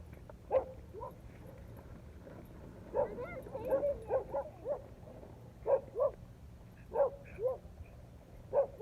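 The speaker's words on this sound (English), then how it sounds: "Don't bark at the dogs." A dog on a leash gives repeated yips, whimpers and short barks during walking practice, scattered irregularly and fairly close over a quiet outdoor background.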